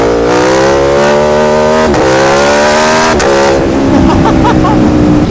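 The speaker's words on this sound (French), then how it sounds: "ce rugissement. Tu sens que le moteur il est énervé là" Aprilia Tuono V4 1100 RR roadster motorcycle accelerating flat out, its engine roaring loud and close as the pitch rises through two rapid upshifts, ending in a rougher, harsher note.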